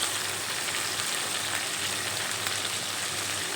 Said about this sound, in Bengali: টমেটো কুচি দিয়ে আবারও একটু নেড়ে চেড়ে নেব।